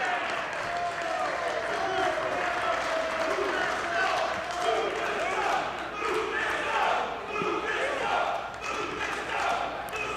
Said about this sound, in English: This crowd coming alive for Lufisto